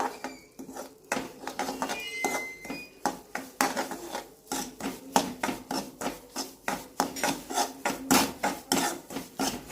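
Ripe mango halwa with desi ghee and semolina is worked in a pan with a spoon, giving steady, rhythmic scraping and rubbing strokes close up, with no talking.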